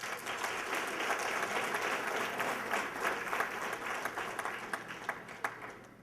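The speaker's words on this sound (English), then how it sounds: "please give them a huge round of applause" An audience at the 2013 Caribbean American Heritage Awards breaks into sustained applause, dense clapping from many hands filling the room with a few sharper claps standing out near the end.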